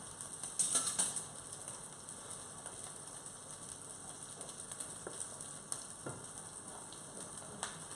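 Cooked potatoes break apart and fry with chorizo in oil, a faint, steady sizzle with occasional soft scrapes from a utensil and no talking.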